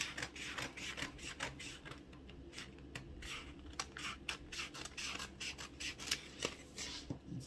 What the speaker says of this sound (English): so we are going to cut out our yoke first